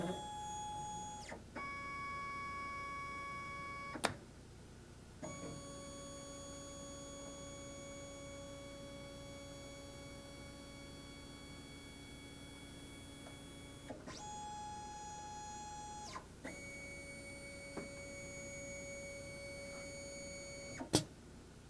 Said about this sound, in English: we're going to run the M2 macro, pick up tool number 1